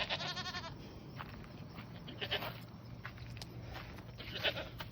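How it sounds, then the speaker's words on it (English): Several goats bleat repeatedly on a farm, close and fairly loud, with steady background noise that may come from a nearby generator. "Now we'll go feed the goats after the generator."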